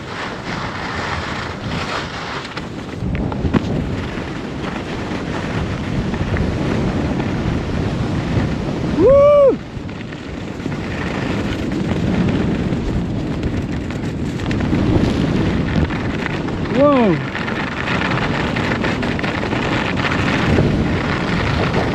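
Wind blowing hard across a glacier ski slope in spring, buffeting the microphone with loud, continuous gusty rumble and a couple of brief whistling squeaks.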